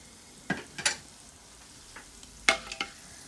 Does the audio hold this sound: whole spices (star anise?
yes